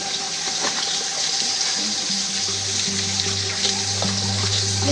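Water flowing steadily at a built-up spring at Cigombong, a constant gushing rush filling the space, with a low steady hum rising underneath partway through.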